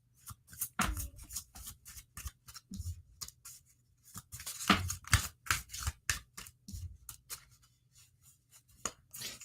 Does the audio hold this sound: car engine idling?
no